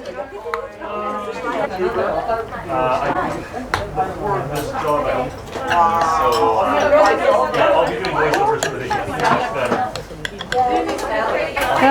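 Okonomiyaki batter with ground meat and egg being mixed in a bowl, scattered clinks and scraping of utensils against the bowl under lively nearby talk and background chatter in a Japanese street food setting.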